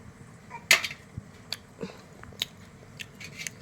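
Someone eating an evening snack indoors at home, with a few close, sharp bites and crunches scattered over a low background hum, no speech.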